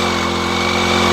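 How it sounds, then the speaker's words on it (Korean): An engine-powered sprayer runs in a vegetable garden, a loud, steady, close-up engine drone with no break. "이거는 엔진 분무기라서 이렇게 많이 나오는데요"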